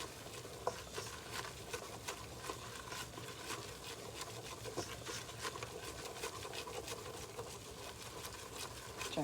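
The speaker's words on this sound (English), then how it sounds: "I'm just cooking out the flour a little bit." Flour being cooked out in a pan for a mac and cheese sauce, a steady soft sizzle with stirring and scraping that carries on throughout, with no talking.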